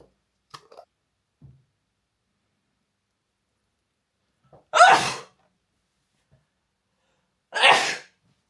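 Two sharp, loud sneezes burst out several seconds apart in an otherwise quiet room, with a few faint clicks and rustles before them.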